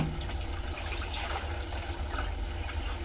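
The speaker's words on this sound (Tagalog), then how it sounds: "Parang matalsik ang tubig." Water splashes steadily and fairly quietly while laundry is rinsed, a continuous wash of running, spattering water with no pauses.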